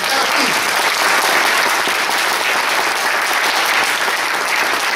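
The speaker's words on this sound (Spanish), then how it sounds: "Quiero oír un aplauso." A church congregation claps in applause during a Spanish-language sermon, a loud, dense, steady wash of many hands close by with no speech over it.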